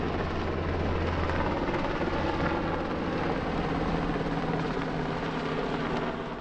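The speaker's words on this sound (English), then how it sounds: "was able to watch Wildfire helicopter bucket training for a couple" A wildfire helicopter flies bucket training runs over Stockade Lake in the Black Hills, its rotor throbbing as a loud, steady, unbroken drone for the whole stretch with no voices.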